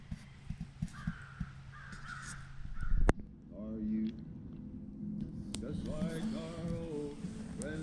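Crows cawing outdoors near a tarp shelter campsite, a string of harsh, close caws arriving in quick succession over scattered background knocks and rustling.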